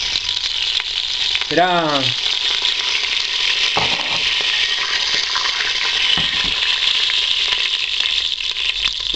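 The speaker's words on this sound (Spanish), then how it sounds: "Vamos a esperar hasta que las semillas de mostaza empiezan a saltar" Mustard seeds sizzle in a hot pan for an Indian potato curry, giving a continuous close hiss with a couple of distinct pops spaced a few seconds apart; a brief spoken word comes early on.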